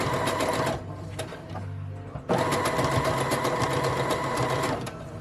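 A sewing machine stitches clothing in steady rapid whirring bursts, running loudly, pausing briefly near the one-second mark, then starting again and running steadily until close to the end, with no talk over it.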